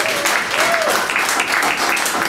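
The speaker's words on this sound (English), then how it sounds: "you should get a flipping round of applause just for doing that" Audience applause at an interview and Q&A session fills the whole stretch as a dense, steady wash of clapping with a faint whistle-like tone near the start.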